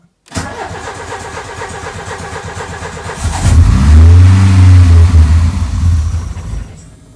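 A car engine with a Solex 32 IDS carburettor and the choke on cranks for about three seconds, then catches and runs with a loud, rough, uneven roar that fades slightly before cutting off.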